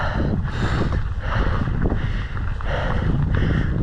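Loud, gusty wind blasts across the microphone in a constant heavy roar, with buffeting surges throughout and no clear speech.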